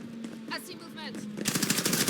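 Automatic gunfire from Call of Duty Modern Warfare multiplayer, a dense rapid burst that comes in during the last second after quieter game sounds and brief radio-style voice callouts.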